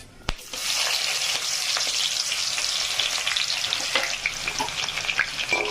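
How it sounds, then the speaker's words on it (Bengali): Loud, steady sizzling of whole garam masala and chopped onion frying in hot oil, with scattered crackles and stirring scrapes, close up after a sharp initial thump. "তেল গরম হয়ে গেছে তার মধ্যে দিয়ে দেব গোটা গরম মশলা তারপর দিয়ে দেব কুচানো পেঁয়াজ"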